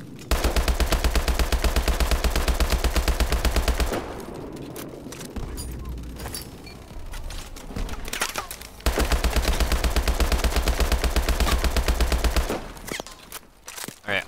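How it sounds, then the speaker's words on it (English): Sustained automatic gunfire in the Call of Duty Advanced Warfare campaign rattles in two long, close, evenly paced bursts, with scattered shots, thuds and movement in the quieter stretch between them. "I am shooting the shit out of these people"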